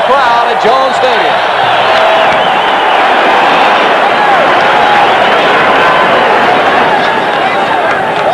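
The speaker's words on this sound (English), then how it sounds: "the Tech defense gets a roar of approval from this 50-plus crowd at Jones Stadium" A crowd of more than 50,000 at Jones Stadium roars in approval at a college football game between Texas and Texas Tech, a dense, sustained, loud wash of cheering with a commentator talking over it.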